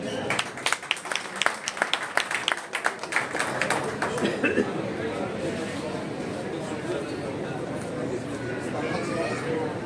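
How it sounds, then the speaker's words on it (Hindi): Audience applause at a gathering of the India Islamic Cultural Centre members, a dense burst of clapping that starts with sharp individual claps and swells into a steady sustained roar lasting the full length. "मैं चाहूंगा उसके लिए सब लोग जोरदार तालियां बजाएं"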